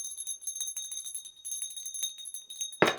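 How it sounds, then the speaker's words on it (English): Small metal bell ringing with sustained high tones and light jingles, ending in a sharp clatter as it is dropped near the end. "Oops, dropped the bell."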